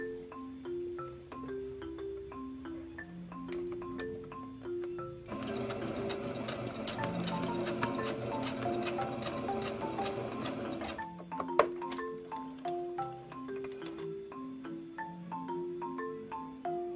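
A sewing machine stitches curtain fabric in a steady, rapid mechanical whir that grows louder and denser for several seconds mid-clip, with softer intermittent running before and after over a light tonal background.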